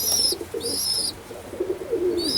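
Young Oriental Roller pigeons coo softly in a loft. Low, burbling coos run under bright, high whistling tones that come and go in short bursts, heard close and clear.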